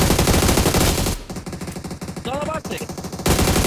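Rapid automatic gunfire in the PUBG video game, loud and continuous at the start, breaking off for a stretch while a voice speaks briefly, then the burst resumes at the end.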